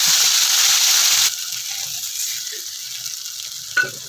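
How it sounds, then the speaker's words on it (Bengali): Spice paste hits hot oil seasoned with bay leaf, dried chilli and nigella seeds over a low gas flame, giving a loud burst of sizzling for over a second that then drops to a softer, steady frying hiss, with a brief clink near the end. "ওই মশলাটাকে তেলের মধ্যে গ্যাসের ফ্লেমটাকে একদম কম করে দেব, দিয়ে আস্তে করে ঢেলে দেব।"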